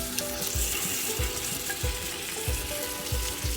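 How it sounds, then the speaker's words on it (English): Tomato sauce of crushed, peeled canned tomatoes hitting a hot pan of meatballs, sizzling and frying loudly and continuously with rhythmic stirring thumps roughly every half second. "Now I'm going to add my tomato sauce,"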